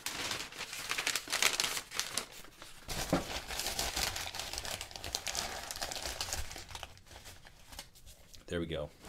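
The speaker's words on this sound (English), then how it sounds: "Maybe you put a bunch of paper in there." Paper crinkles and crumples steadily as it is wadded and pushed into a clay coil-built vase, a close, continuous rustling that runs throughout with brief louder handling noises.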